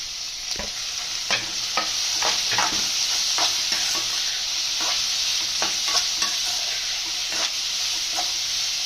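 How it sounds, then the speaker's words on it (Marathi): Onion, ginger and garlic sizzle steadily in hot oil for a tender jackfruit bhaji, with a continuous close frying hiss broken by repeated scraping stirs of a spatula. "आता कांद्याबरोबर मी आला आणि लसूण पण घालून घेते"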